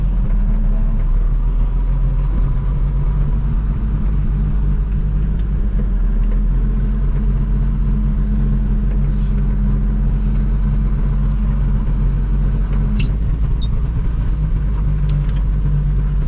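A 1950 Chevrolet Deluxe's engine idles on throughout in a steady, low rumble, deep and continuous, with a faint brief clatter near the end.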